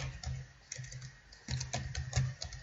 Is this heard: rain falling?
no